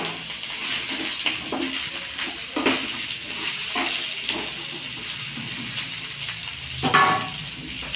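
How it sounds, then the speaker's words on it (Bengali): Drumsticks fry in a pan with turmeric and Kashmiri chili powder, a steady loud sizzle under repeated scraping stirs and a sharper clatter near the end, close up with no speech. "দিয়ে দেবো অল্প হলুদের গুঁড়ো অল্প কাশ্মীর লঙ্কার গুঁড়ো নাড়িয়ে"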